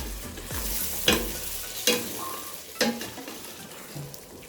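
Egg stew for new yam sizzling and frying in a pot in a village kitchen, with several sharp scrapes of a spoon stirring through it about once a second over a steady close fry.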